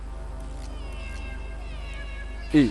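A single close, loud cat meow rises sharply at the very end, after a low steady hum.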